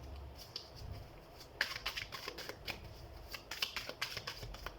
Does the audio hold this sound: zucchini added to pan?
no